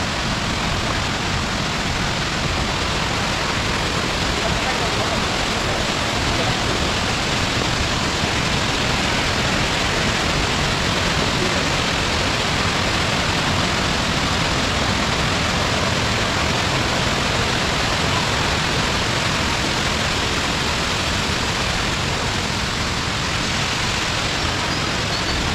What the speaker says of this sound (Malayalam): ഇതാണ് ഇരിപ്പ് വാട്ടർഫാൾസ്